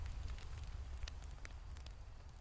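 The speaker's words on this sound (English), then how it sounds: "Focus on the sound of the firewood crackling." Firewood crackles in an outdoor fire in the woods, with scattered small pops and snaps over a steady low rumble. No voices.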